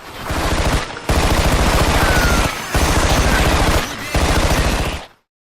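Light machine gun firing in the shooter Black: three long, loud full-auto bursts at a fast cyclic rate, separated by brief pauses, ending abruptly.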